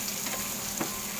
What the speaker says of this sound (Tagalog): Ngayon po ay magluluto tayo ng, piprito naman tayo ng